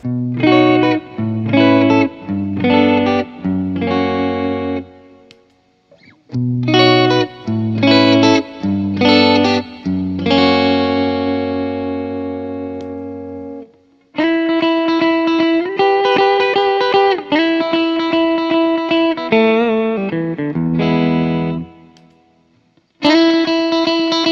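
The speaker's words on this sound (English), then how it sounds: "let's start with our humbucking equipped guitar and see if we can get some authentic single coil type tones out of it." A humbucker-equipped electric guitar played through an Exchanger pickup-switching pedal, set for single-coil style tones, strums chord phrases in rhythmic bursts with short pauses, then rings out sustained chords and a final stab.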